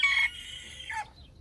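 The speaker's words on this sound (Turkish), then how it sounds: "size minik horozları göstereyim" A Sebright bantam rooster crows once, a short high crow heard clearly in a zoo in Odessa, followed by quieter background.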